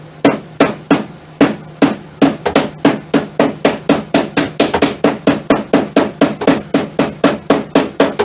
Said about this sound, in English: Hammer this nail down here that got bounced out of here.